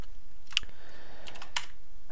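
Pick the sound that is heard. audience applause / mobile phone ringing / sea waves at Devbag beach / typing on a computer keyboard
typing on a computer keyboard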